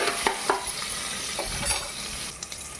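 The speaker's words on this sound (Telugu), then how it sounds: "ఒకసారి కలిపేసి ఒక 2 నిమిషాలు గోలనివ్వాలి" Salted onions fry in a pan for tomato rice while being stirred. A constant sizzle runs under repeated scraping and clinking strokes of the utensil, close by, with no speech.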